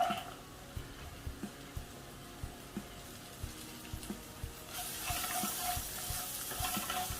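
Chopped beans are stirred in a pan for Kerala-style rava upma. Soft regular scraping taps repeat about twice a second, then a rising hiss of sizzling takes over near the end.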